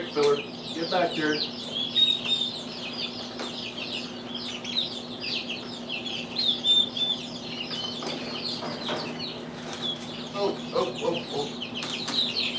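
Baby chicks and quail chirp in a pen, their thin high peeps steady throughout, with bursts of clucking from nearby fowl and a person talking intermittently close by.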